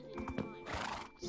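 Horse in the Minecraft video game neighing with a whinny and hoof clip-clop, loud and close in a short burst, with game and voice sounds around it.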